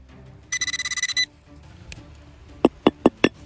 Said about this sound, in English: Yes, the metal detector picked up the signal from here.